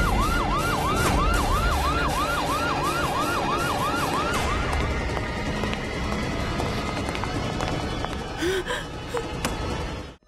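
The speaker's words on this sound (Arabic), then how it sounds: "هذا صوت سيارة الشرطة." Police car siren wailing loud and close in a rapid repeating cycle, then shifting to a steadier tone, with engine and street noise beneath and a sharp cut at the end.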